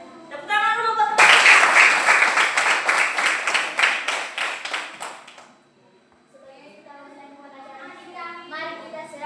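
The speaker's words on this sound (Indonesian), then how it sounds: "Tepuk tangan dulu buat teman" Young schoolchildren in a fifth-grade classroom break into loud, rhythmic group clapping for a classmate, lasting several seconds, with children's voices before and after.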